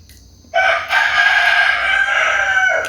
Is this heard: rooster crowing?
yes